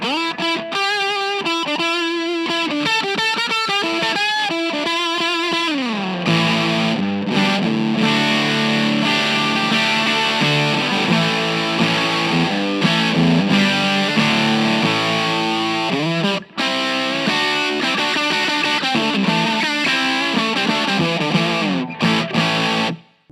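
Electric guitar through a JFET overdrive pedal plays a run of picked notes, then rings out into sustained, fuzzy overdriven chords, loud and continuous without any voices.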